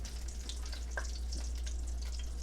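A steady, soft hiss of bacon grease sizzling in a large pan, heard close and continuous with no talking.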